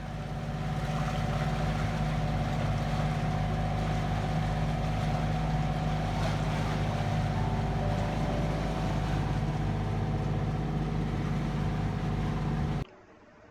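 A sailboat's engine drones steadily as it motors across calm, windless water out of Talaga Harbour, a continuous low hum with water wash that runs unbroken for about thirteen seconds before cutting off abruptly.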